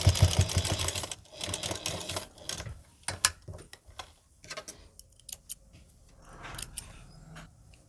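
Sewing machine stitching salwar fabric, faint close mechanical ticking and rattling in short uneven bursts, stopping and restarting, with a louder whirring run at the start.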